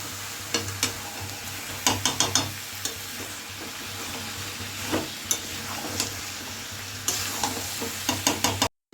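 Chicken curry being sautéed in a pan, with a steady low sizzle and repeated spoon scrapes and stirring clatters that come in bursts throughout, close and moderately loud.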